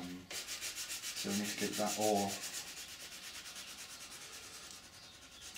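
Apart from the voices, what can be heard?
sanding a 3D printed ABS mould part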